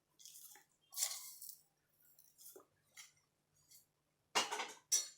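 A spoon clinks and scrapes in a cup, stirring black Nescafé and sugar into warm milk, with a few short quiet taps and swirls and two louder clinking bursts near the end.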